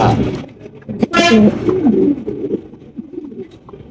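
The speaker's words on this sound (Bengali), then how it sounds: "এখানে আরো এক জায়গায় শৌখিন কবুতর রয়েছে" Several pigeons coo in a breeding loft housing large fancy pigeons, low throaty calls rising and falling close by, with a short burst of wing or scuffling noise partway through.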